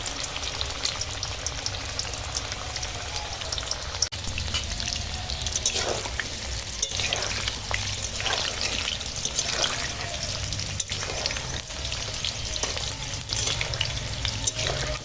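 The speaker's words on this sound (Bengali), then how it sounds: "চলো এরকম করে সব ম্যাজিক বলগুলো ভেজে নিই চিকেনের ম্যাজিক বল" Chicken balls fry in hot oil with a dense, constant sizzle and crackle, and a spoon stirs and scrapes through the pan now and then, close up and steady throughout.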